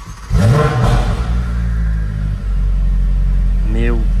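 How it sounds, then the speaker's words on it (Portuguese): A Ferrari 488 Pista engine with a titanium exhaust rumbles low and steady at idle, with a brief rev near the start, and a voice talks over it briefly at the beginning and end. "Dá uma ligada no ronco dessa máquina."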